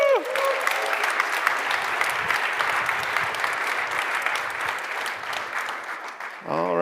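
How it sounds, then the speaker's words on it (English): Audience applause welcoming the opposing team at a competition finale, a dense, even wash of many hands clapping close by, sustained for several seconds, with a voice speaking briefly at the very start and again at the end. "please give it a warm up welcome and applause to the opposing team"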